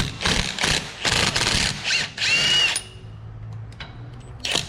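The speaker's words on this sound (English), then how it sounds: "you'll be unbolting the 5 bolts that hold the wheel bearing to" A power tool spins the five wheel bearing bolts loose from the steering knuckle on a Ford Transit, buzzing in several close, loud bursts with short pauses, then a quieter stretch of faint clicks and shop noise.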